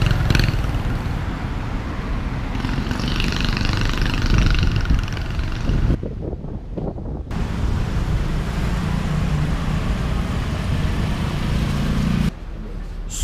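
A Kawasaki Ninja V150 motorcycle idles nearby in Thailand, making a steady, fairly loud engine rumble that continues with brief interruptions and no clear talking.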